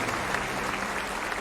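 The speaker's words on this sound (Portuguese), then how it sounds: "Palmas para ele." An audience at a seminar ceremony claps steadily and evenly throughout, dense and sustained applause with no voices standing out.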